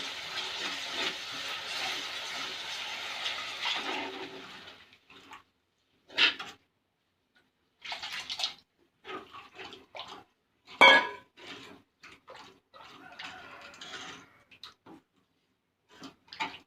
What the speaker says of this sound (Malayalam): ഉപ്പും പുളിയും വെള്ളത്തിൽ ഇട്ടിരുന്ന് നമുക്കത് അങ്ങോട്ട് ഒഴിക്കാം